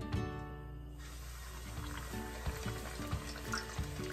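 A pork chop sizzles in hot oil over medium heat for a pork chop casserole, a steady crackling fry with small pops throughout, close and fairly quiet, no talking.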